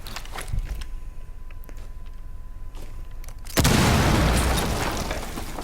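A breach charge detonates in Rainbow Six Siege, a sudden loud, close boom with crackling debris that slowly fades, preceded by quieter footsteps and gear clicks.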